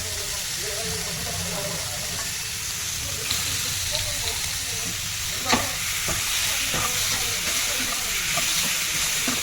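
Fish frying in a pan of oil, a continuous crackling sizzle with small pops throughout, fairly close, under a steady background hiss.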